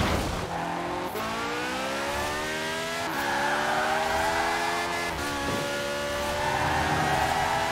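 A Peel Trident microcar in Forza Horizon 4 drones loudly at high speed, its engine pitch climbing steadily between gear shifts, with tyre noise underneath.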